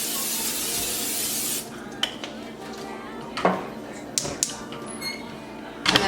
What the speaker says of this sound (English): I'm going to put some like olive oil spray on the pan.